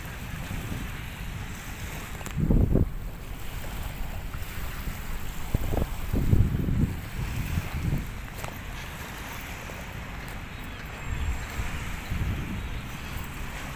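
Waves at high tide on Manila Bay wash and slosh against the shore in irregular surges, with a steady wind rushing over the microphone throughout; no one speaks.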